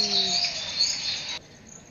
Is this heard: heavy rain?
no